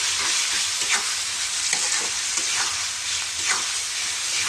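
Beef tripe frying in a pan with ginger garlic paste, a loud steady sizzle broken by repeated scraping strokes of a spoon as it is stirred.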